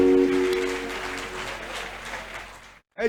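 An audience at a church concert applauding loudly to acclaim Jesus, dense clapping that starts over a held tone and tapers off before a sudden cut.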